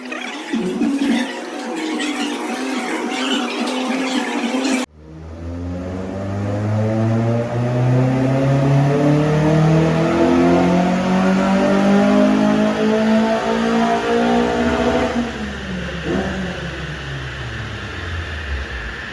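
A Nissan Sentra 200STi fitted with a roller rocker engine revs hard on a dyno, the pitch climbing steadily in one long loud pull before dropping off near the end, with a whining drone and no talk.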